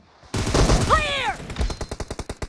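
Automatic gunfire in the mobile shooter BGMI during a team deathmatch, a loud sustained burst followed by a run of rapid, evenly spaced shots, close and dominant with no talk over it.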